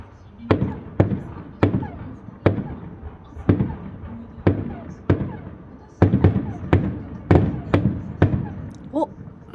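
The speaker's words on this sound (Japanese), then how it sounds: "花火ね。" Fireworks burst one after another at a steady pace, heard from a Hotel MiraCosta room, sharp bangs echoing in the open, with occasional voices in the background.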